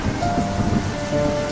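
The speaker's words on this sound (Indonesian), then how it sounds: "Di luar, badai masih menggila, petir menyambar tiang-tiang istana, angin meraung bagaikan raksasa tak bertubuh." A thunderstorm sound effect with steady heavy rain and low rumbling thunder, dense and loud throughout a brief stretch, with no voices.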